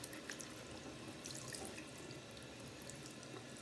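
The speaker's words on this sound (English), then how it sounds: "So first, we're gonna make sure these get wet." Tap water runs steadily over crayon- and marker-stained children's clothes in a sink, a continuous close splashing and trickling with faint drips and no voices.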